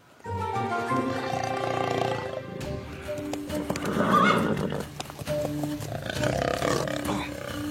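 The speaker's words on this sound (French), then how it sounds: "Nos chevaux." Horses whinny loudly and repeatedly over a steady rumble of hooves, with layered neighs rising and falling throughout.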